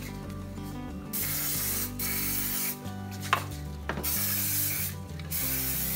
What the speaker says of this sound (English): let me try what I usually do which is a little non-stick spray or cooking spray.